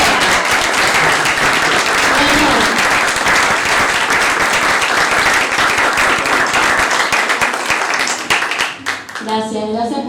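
Loud, sustained applause fills a hall at a talk on stage production, continuing for about nine seconds before thinning out as a voice begins.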